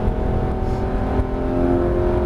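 A Porsche 991 GT3 RS engine roars steadily at high revs on the Alès circuit, a continuous loud whine and rumble with no voices.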